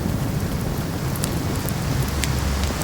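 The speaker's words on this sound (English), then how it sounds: "The rain here is only half the problem" Steady, dense rain falls in the video game S.T.A.L.K.E.R. 2, a loud continuous hiss with scattered drop ticks and a low rumble, heard alone without talking.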